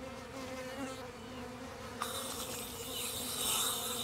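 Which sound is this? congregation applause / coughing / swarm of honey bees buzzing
swarm of honey bees buzzing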